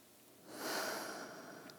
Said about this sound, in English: Give yourself 2 to 3 more breaths here